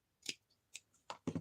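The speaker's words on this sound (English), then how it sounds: "I will cut it just a tiny bit" Scissors snip craft material in a few short, crisp cuts, close and fairly quiet, with gaps of silence between the snips.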